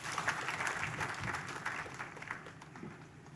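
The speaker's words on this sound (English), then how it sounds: "Kindly give him a clap as he comes." Audience applause greets a state official arriving to speak at a Kenyan county-government devolution forum, steady dense clapping filling the hall for a few seconds with no voices over it.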